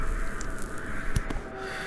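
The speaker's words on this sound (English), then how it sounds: "you hear crows start crying above you" Crows caw overhead in a video game, a couple of short harsh calls standing out over a steady low ambient bed, fairly faint and distant.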